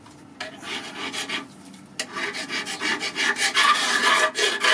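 A knife blade scraping the gasket area of a kamado grill gives repeated rough rasping strokes, quieter at first, then louder and denser in the second half, with no talking.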